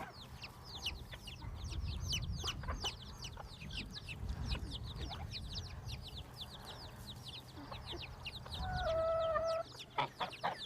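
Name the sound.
chicks, bantam hen and guinea fowl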